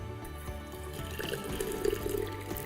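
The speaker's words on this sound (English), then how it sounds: "I'm going to add some boiling water" Boiling water pours steadily into a teapot, a close gurgling splash with rising bubbly tones, brief and continuous.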